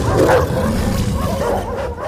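Hungry dogs barking and yipping close by, loud overlapping barks with some whimpering, filling the whole short stretch.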